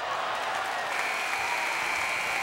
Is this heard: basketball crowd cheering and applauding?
yes